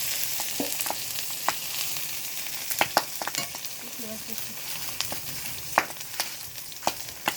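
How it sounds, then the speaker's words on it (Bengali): Chapa shutki dried fish bubbling in a pan with pumpkin, a soft continuous sizzle broken by scattered clicks and spatula taps at close range. "এই যে শুটকিগুলো, রুটি শুটকি, শুধু ফুটছে আর কি"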